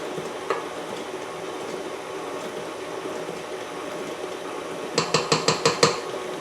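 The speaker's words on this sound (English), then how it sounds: "I'm mixing in about 1/3 of it and waiting until it all incorporates." Cookie dough being mixed as dry ingredients like flour and salt are worked in, a steady soft scraping churn under faint background noise, ending in a quick run of about six sharp knocks or taps close by.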